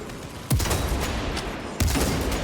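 Heavy gunfire from the video game Space Marine 2, a dense continuous fusillade with two sharp, loud bursts punching through the steady roar of shooting.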